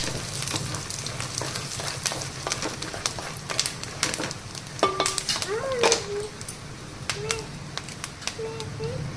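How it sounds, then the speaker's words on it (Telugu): Fresh curry leaves frying in peanut oil in a pan: a steady close sizzle with scattered crackles and spoon scrapes, while someone talks over it. "పచ్చి కరివేపాకు కొంచెం వేయించాలి."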